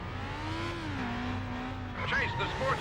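A car engine holds a steady drone and then rises, with squealing tires toward the end, during a chase sequence in the Stuntman video game, with speech running over it.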